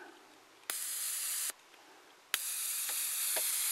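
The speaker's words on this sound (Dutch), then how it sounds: "Je hoort ook een soort van, ik weet niet, een of ander elektriciteitsgeluid" A Plasmatic plasma lighter fires two bursts of harsh electric crackle and buzz, each lasting about a second, loud and close, with quiet pauses between.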